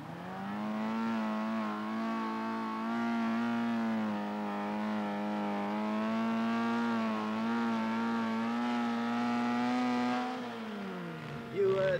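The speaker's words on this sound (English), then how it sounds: "You were doing a bit of wheel spinning there, I thought, Alan." Car wheels spinning on a sloped bank during a sporting trial, a strained engine holding a steady high drone for about ten seconds before easing off, with voices speaking over it.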